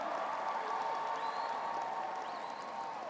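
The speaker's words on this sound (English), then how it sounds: "Let's give them a big round of applause" Graduation audience applauding the boys soccer team at the 2019 commencement, a steady wash of many hands clapping at a distance from start to finish, with a faint cheer rising above it.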